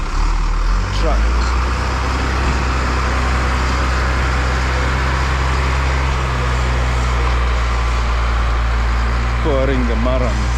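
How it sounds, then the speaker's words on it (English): A brand-new truck pours fine murram at a road construction site, its engine rumbling loud and steady throughout with heavy low drone, while people talk over it near the end. "it's a very brand new truck"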